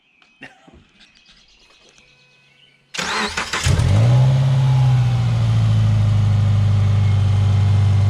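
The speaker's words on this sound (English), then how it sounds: "you want to start it up. We're gonna hear it. Listen to the motor." After a few seconds of quiet clicks and rustling, a Subaru engine with 350,000 miles cranks and fires, revs briefly, then settles into a loud, steady idle with a deep exhaust rumble and no ticking.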